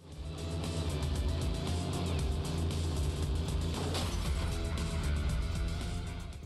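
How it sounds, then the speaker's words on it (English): A car driving in the open-world driving game HOTGEAR, a steady, loud engine drone with a low rumble and a brief rise around the middle, constant throughout with no talking. "HOTGEAR is an open-world car driving game."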